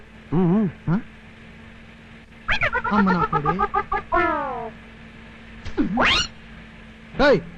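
A rooster crowing aboard a bus in a comic scene, a strained, warbling crow in several bursts with pauses between, loud and close, with people talking around it.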